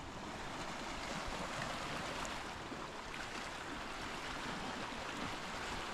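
Waves wash in at Ammos Kambouri beach in Ayia Napa, Cyprus, at sunset, forming a steady, soft hiss of surf with no talking.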